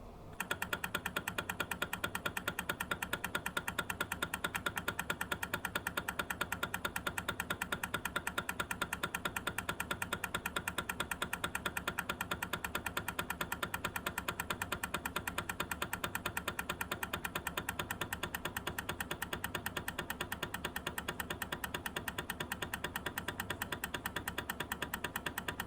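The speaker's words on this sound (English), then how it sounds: "This example shows a test run at 4mm amplitude and 10 Hz with PaO4 as the lubricant." A TE 55 tribometer runs a reciprocating test at 4 mm amplitude and 10 Hz with PAO4 lubricant, giving a steady, dense mechanical clatter with fast regular ticking that holds unchanged for the whole stretch, with no voices.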